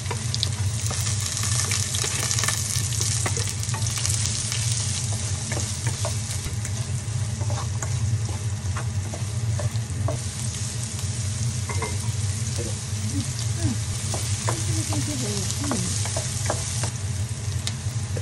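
Onion sautéing in a pan while making stuffed milkfish, a constant loud sizzle with intermittent stirring clicks and scrapes close by, no voices.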